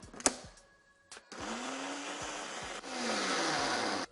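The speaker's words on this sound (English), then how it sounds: "Blitz the mix up until smooth." A blender whirs through a vegan bacon seasoning mix made with tarragon, garlic and miso paste, starting after a couple of clicks and running in two steady, close bursts of motor whine with a brief pause between.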